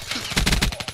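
Rapid bursts of video-game gunfire, a nail gun among the weapons, crackle loud and close in pulsing volleys across a second, with no talk over them.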